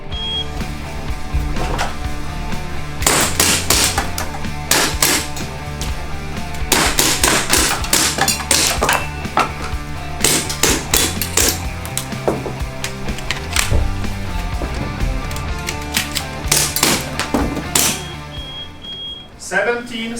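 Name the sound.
airsoft gun shots during an IPSC shooting contest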